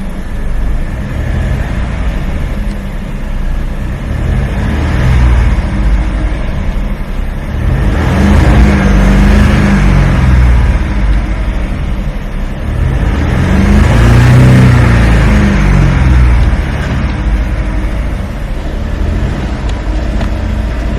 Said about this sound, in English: Let me show you a clip of what the engine sounds like normal and versus when I'm actually like revving it